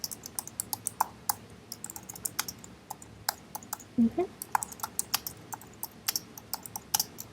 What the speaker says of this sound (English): I'm just going to be typing down some of this information